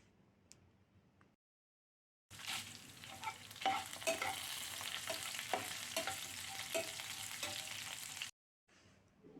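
Ginger pieces and dried red chillies frying in hot oil, a steady close sizzle that starts abruptly, runs for about six seconds with a few utensil taps, then cuts off into near silence.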